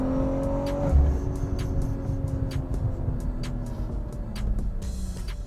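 A 2023 BMW M340i engine revs hard and climbs in pitch as it accelerates, loud and close from the inside, with steady road rumble beneath.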